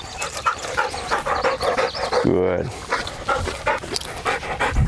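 A gundog in the field during handling training pants rapidly and steadily up close, with a voice talking over it and a brief whine in the middle.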